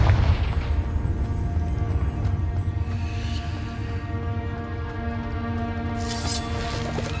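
Confringo spell explosion in Hogwarts Legacy, a loud booming blast with a low rumbling tail that fades over several seconds under game ambience, followed by a faint shimmering sound.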